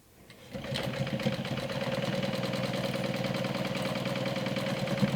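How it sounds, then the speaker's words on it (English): A sewing machine stitches layers of a glow-in-the-dark backpack together with a quarter-inch seam allowance, running steadily and loud after a quick start with a fast, even mechanical hum and rapid needle rhythm. "So now I'm going to go ahead around and just stitch these layers together."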